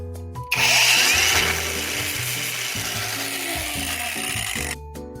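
A power sander whirs loudly against shoe soles and heels with a steady abrasive grind, starting abruptly and running continuously before stopping near the end.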